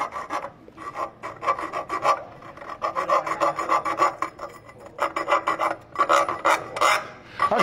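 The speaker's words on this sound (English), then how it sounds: "So let's just take the time, get a nice file," A hand file rasps over rough-cut metal edges on a Jeep Wrangler JL front coil spacer, quick rhythmic back-and-forth strokes, close and crisp, with short pauses between sets.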